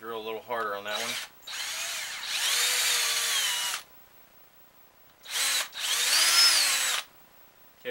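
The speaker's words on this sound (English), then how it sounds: "May drill a little harder on that one." A power drill driving a screw into wood whirs in two bursts, the second short and high-pitched, with a brief pause between and a short lower rattle at the start.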